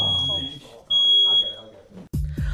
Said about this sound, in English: A familiar sound to anyone who has tested the limits of how much they can fry before that smoke detector goes off